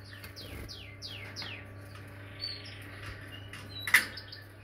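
Canaries in breeding cages give a quick run of short, bright descending chirps near the start, then scattered fainter tweets and one sharp peep near the end over a steady low hum.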